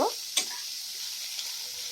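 Chopped onion and green chillies fry lightly in a little oil for an egg tikka masala, making a steady close sizzle with a sharp spoon scrape early on.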